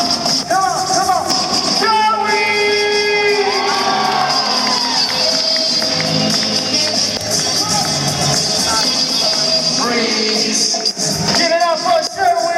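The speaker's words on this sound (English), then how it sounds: "Everybody clap your hands, come on." A loud crowd claps and cheers at a boy-band show at Universal Studios Singapore, with whoops and shouts over music, continuous and dense throughout.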